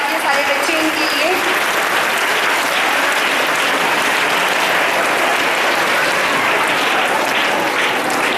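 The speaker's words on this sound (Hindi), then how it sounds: "एक बार ताली बजा दीजिए सारे बच्चे इनके लिए।" Schoolchildren at a school annual function clap continuously as a guest is welcomed onto the stage, a loud unbroken wash of applause from a large crowd lasting several seconds.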